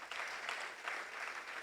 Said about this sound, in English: I think we deserve a clap.